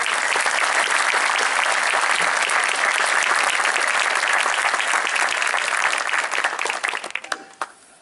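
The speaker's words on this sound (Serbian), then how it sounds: "Predložio bi da jednim velikim aplauzom pozdravimo sve ove ljude koje sam pomenuo" Applause from a large audience at a documentary film premiere, dense sustained clapping that holds strong for several seconds and then thins out and fades toward the end.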